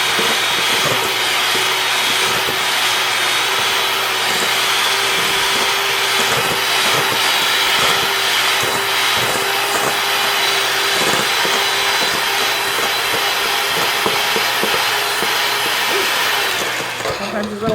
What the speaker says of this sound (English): I'm going to cream this together. This is Mrs. Claus Mix Master.